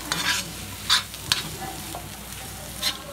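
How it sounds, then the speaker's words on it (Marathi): Ridge gourd bhaji sizzles in a pan over a high gas flame, with a steady close frying hiss and a few sharp scraping stirs spaced through the clip; no talking. "गॅसची फ्लेम मोठी करायची आणि चांगली भाजी हिला तरसून घ्यायची व्यवस्थित अशी"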